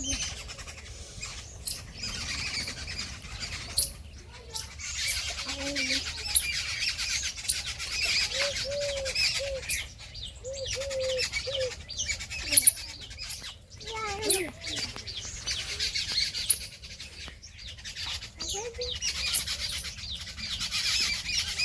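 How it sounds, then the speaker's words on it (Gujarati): A flock of sparrows gathered together chirps and squawks in short, scattered bursts over a hissy outdoor background, with occasional voices nearby. "આ ચકલા આટલા બધા ભેગા થયા"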